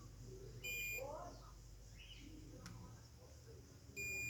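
Short high electronic beeps from a multimeter's continuity test, one near the start and another at the end, quiet background with faint handling sounds.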